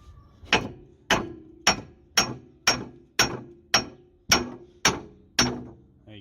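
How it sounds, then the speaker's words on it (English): Ten sharp, evenly spaced hammer blows strike a car's suspension arm during a driveway brake disc and pad replacement, each a loud metallic whack with a short ringing decay, with no talking. "Give the suspension arm a good whack to get it out of the way."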